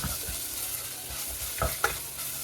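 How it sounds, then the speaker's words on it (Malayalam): Ginger, garlic and green chili sauté in hot oil for chicken curry, a steady close sizzle broken by a couple of spoon knocks and scrapes. "ഇഞ്ചി വെളുത്തുള്ളി പച്ചമുളക് അതിൻ്റെയൊക്കെ ആ പച്ച മണം ഒന്ന് മാറി കഴിയുമ്പോൾ പൊടികൾ ചേർത്ത് കൊടുക്കാം"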